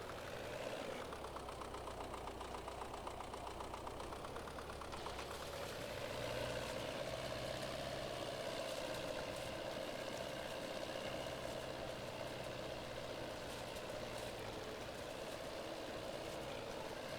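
A small tractor engine in Farming Simulator 22 idles and then revs up with a steady knocking rumble, holding a constant hum throughout.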